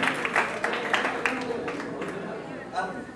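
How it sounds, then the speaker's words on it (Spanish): Scattered applause and cheering from a bar audience at a live rock concert, heard under someone speaking into a microphone, with a few sharp claps standing out early on before fading. "Un aplauso para él, por favor."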